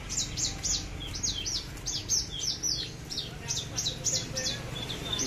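Caged Javan bush lark (branjangan) singing close up, a steady run of sharp, bright chirps and trills repeating across the whole stretch over a low background hum.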